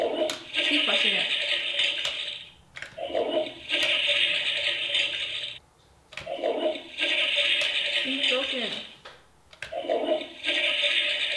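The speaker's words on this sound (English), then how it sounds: "keep flushing it" Repeated flushes of a toy toilet in a party challenge game, each a loud rushing burst of a couple of seconds separated by short gaps, close by, with brief rattles between.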